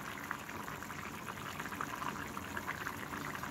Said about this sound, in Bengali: এই যে কিছুটা সরিষার তেল, খাঁটি সরিষার তেল একেবারে ঘানিতে বাঙানো